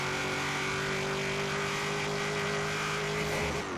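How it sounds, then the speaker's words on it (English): A supercharged classic Camaro Z28 in Forza Horizon 3 holds a steady, loud engine drone with a constant whine on top, cruising with no change in pitch for a few seconds before a slight shift at the end. "The supercharger sounds very healthy."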